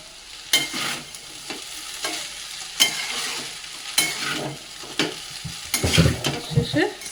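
Noodles stir-frying in a pan with soy sauce, oil and fried egg, the spatula scraping and tossing in repeated bursts over a steady sizzle, close and fairly loud with no talking.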